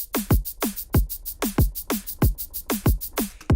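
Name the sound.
electronic shaker sample on 16th notes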